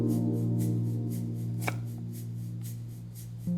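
Onion being chopped slowly on a cutting board while celery and carrot soup is prepared; soft, faint knife taps spaced roughly every quarter second under a steady low hum, with one sharper click partway through.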